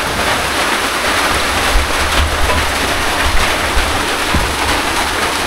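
A loud, dense wash of rain pours steadily without pause, with a low rumbling undertone beneath the constant hiss.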